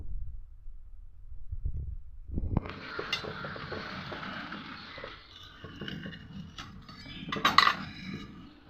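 A knife cuts through a grilled vegetable sandwich and presses it on a plate, with scraping, clinking and crunchy rustling close by after a quieter start. No one speaks.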